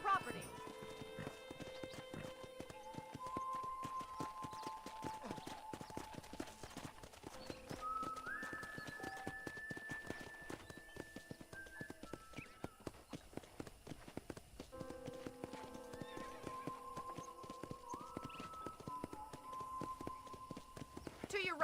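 Steady hoofbeats clip-clop at a walking pace beneath a soft melodic music bed in the video game Red Dead Redemption, continuous and fairly quiet throughout.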